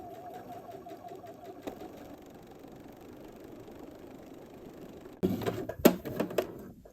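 A sewing machine stitches a seam along a row of earlier stitching, a faint steady mechanical hum that gives way near the end to a louder, closer burst of rapid stitching.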